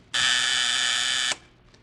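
Electric door buzzer in a detective radio drama, a single steady harsh buzz lasting about a second, loud and close, then cut off abruptly.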